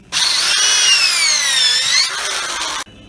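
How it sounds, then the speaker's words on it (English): A regular handheld power drill bores out a rubber control arm bushing on a GM rear suspension, one continuous whining run of close, loud drilling that rises and falls in pitch before cutting off abruptly. "when we're drilling it out, we're trying to free this little piece in the middle"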